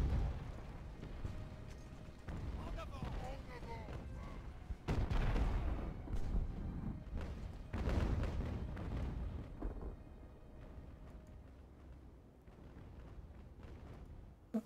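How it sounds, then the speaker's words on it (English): Artillery and mortar fire from the age-of-sail naval strategy game Ultimate Admiral: Age of Sail, with a series of deep booms and rumbling impacts recurring irregularly through a battle ambience, some louder bursts near the middle. "I have two artillery and one mortar hitting him."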